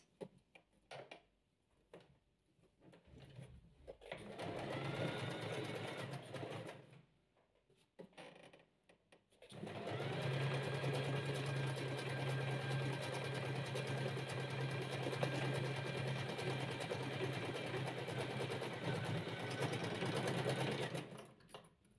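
Domestic sewing machine running a complex decorative stitch, a short burst followed by a long steady close whirring run with a fast rhythmic needle clatter, loud and alone without talk.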